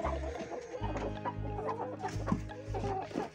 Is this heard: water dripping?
no